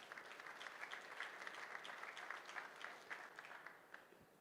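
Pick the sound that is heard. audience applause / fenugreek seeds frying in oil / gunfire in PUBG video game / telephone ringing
audience applause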